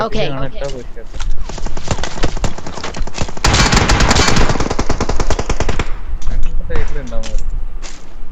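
Rapid automatic gunfire in a battle royale video game, loud, dense bursts of repeated shots running almost continuously, with a player talking over the fighting.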